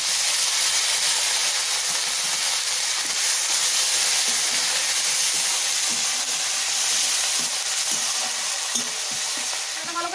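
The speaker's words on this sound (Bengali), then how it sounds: "তেলের মধ্যে একটু নুন দিয়ে আমি এই বাটা মশলাটা দিয়ে দেবো" Ginger, garlic and green chili paste sizzles loudly and steadily in hot oil in a village kitchen, a dense continuous frying hiss with occasional stirring clicks, close and alone.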